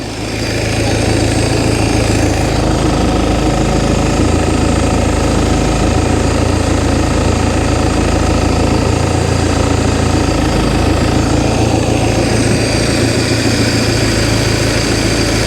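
A boat engine runs during winterizing, with a power steering leak, vibrating hard. It makes a loud, close, continuous rumbling drone that holds steady throughout with no talking over it.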